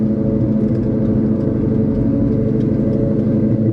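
A 1999 Ford SVT Cobra is being driven, its engine giving a steady, close-up mid-pitched rumble and whir from inside the car, with no distinct rev change standing out.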